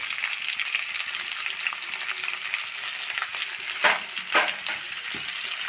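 Mustard seeds spluttering in hot oil alongside crushed shallots, dried red chillies and ginger-garlic paste for a raw mango curry: a steady close sizzle with a few sharper pops near the end.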